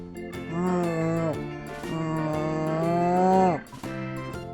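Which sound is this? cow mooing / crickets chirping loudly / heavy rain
cow mooing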